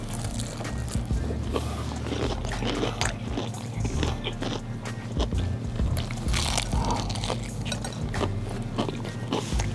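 Someone bites into and chews crunchy buttermilk fried chicken close to the microphone, giving repeated crisp crunches and smacking chews over a low background hum.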